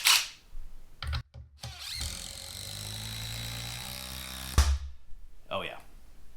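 A DeWalt impact driver drives screws in short, very loud rattling bursts, with one long sustained run in the middle, and brief pauses between them.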